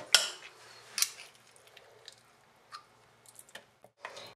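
Squash blossoms being stuffed by hand with a filling of dehydrated tomatoes and nuts. Soft, close squishing and sticky handling sounds come in short bursts, with faint clicks of utensils between them.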